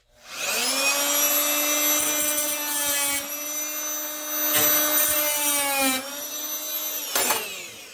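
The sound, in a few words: multi-tool cutting rubber snowblower impeller material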